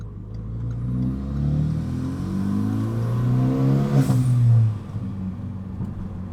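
Renault Megane RS engine heard from the cabin while driving at a relaxed pace, a steady mid-pitched drone with rising revs and a brief louder surge before it settles back into a lower hum.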